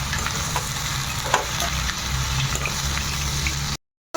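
Garlic sautéing in a pan for water apple chutney, a steady close crackling sizzle with occasional sharper pops, then a brief cut to silence near the end.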